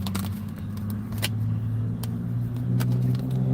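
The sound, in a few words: truck engine running unusually loud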